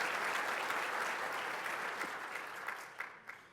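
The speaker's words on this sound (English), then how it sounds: "Let's give a round of applause to our supporters" Audience at a state of the airports address applauds its supporters, a dense steady wash of clapping that thins and fades toward the end with a few last scattered claps.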